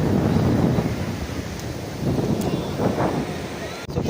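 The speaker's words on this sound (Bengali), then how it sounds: "এই দেখো আরেকটা ঢেউ আসছে।" Sea waves break and wash up onto Bakkhali beach in a steady roar, surging louder then easing, with wind buffeting the microphone and a voice speaking briefly.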